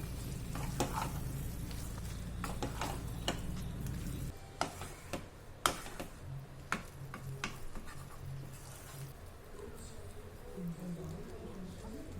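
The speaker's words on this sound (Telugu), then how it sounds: "ఇప్పుడు మనం ముందుగా కట్ చేసి పెట్టుకున్న వంకాయ ముక్కలను కూడా వేసి బాగా కలుపుకోవాలి." Brinjal pieces sizzle steadily as they are stirred in a frying pan for a brinjal and cashew nut curry, with scattered sharp spoon scrapes and taps against the pan over the constant frying hiss.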